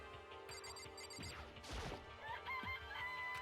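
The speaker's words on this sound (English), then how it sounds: "Oh, there's chickens! This place even has chickens, huh?" Chickens cluck in a Danganronpa video game scene, short squawking calls over background game music with a brief crash-like burst in the middle.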